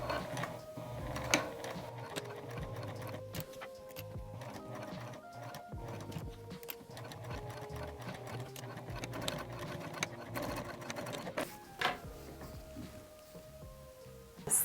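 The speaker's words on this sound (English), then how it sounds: "I'm going to sew a box with a crisscross to strengthen it." A sewing machine stitches a reinforcing box with a crisscross on a fabric collar strap, its needle chattering in a steady fast mechanical rhythm, close but fairly quiet.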